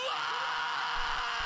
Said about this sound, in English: Saturation is huge for like screaming vocals